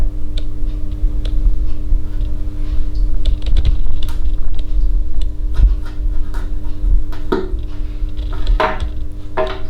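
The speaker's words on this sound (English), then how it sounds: "I'm going to try and cut this pepper in the most triggering way possible" A knife slices through a Medusa chili pepper on a board, giving short, sharp clicks and taps in an uneven rhythm, close and fairly loud over a steady low hum, with a few brighter scraping cuts near the end.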